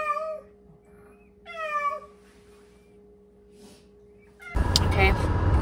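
Cat meowing indoors, two clear drawn-out meows a second apart over a quiet background, then a louder burst of broadband noise near the end.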